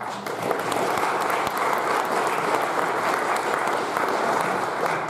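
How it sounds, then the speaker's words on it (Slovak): An audience applauds continuously to welcome a guest onto a show, a dense steady clapping that stays loud and even throughout, with no speech. "A za autorov tohto videa ja by som chcel privítať ho potleskom Marian Gažúr."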